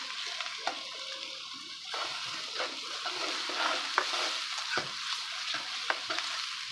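Garlic and masala sizzle in a pan for a tinda masala dish, a steady frying hiss broken by repeated clinks and scrapes of a spoon stirring, close up with no talking.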